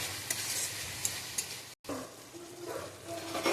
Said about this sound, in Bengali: এবার এটাকে ভালো করে নেড়ে নেবো